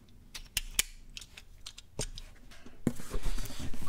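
Unboxing a package holding a Nordost digital cable: scattered crisp clicks and crinkling of packaging handled close by, growing into louder, denser rustling toward the end.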